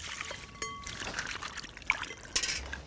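Water pours and trickles steadily, with a few splashy bursts as a crab is rinsed under a running stream.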